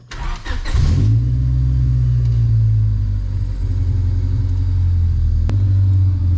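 A car engine starting with a brief cranking whir, then catching into a loud steady idle with a deep rumble, held close and alone.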